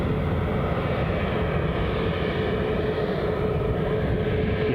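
Loud, steady roar of an airplane engine at Newcastle International Airport, a continuous broadband rumble that holds evenly throughout with no talking.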